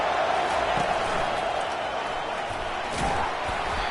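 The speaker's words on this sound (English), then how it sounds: "listen to the roar of this crowd" Large football stadium crowd at a UNC versus Iowa game roars steadily, a dense sustained wash of cheering with slight swells, loud and continuous throughout with no distinct voices standing out.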